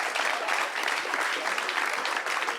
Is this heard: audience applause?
yes